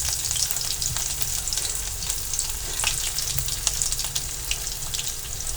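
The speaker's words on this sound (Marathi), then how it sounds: "आपण त्याच्यामध्ये अर्धा चमच जिरे टाकणार आहोत" Cumin seeds and crushed garlic cloves sizzle in hot oil for dal tadka, a steady close crackle and hiss with faint stirring clinks throughout, no voices.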